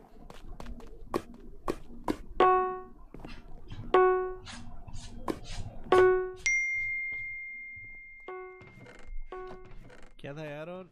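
A repeating notification ding in a Minecraft stream chimes over and over in a quick, uneven run of bright tones, mixed with clicks and a voice talking.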